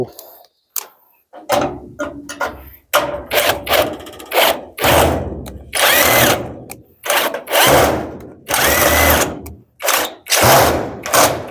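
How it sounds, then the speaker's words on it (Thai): Power drill boring a hole up on a roof during installation work, a series of repeated short and longer whirring bursts, loud and close, with brief gaps between them. "เจาะน้ำให้เป็นรู"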